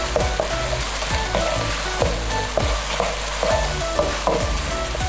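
Chicken with ginger and spring onion in a Chinese stir-fry sauce crackles in a hot pan while a utensil stirs it in regular scraping strokes, a close, continuous sizzle with rhythmic knocks.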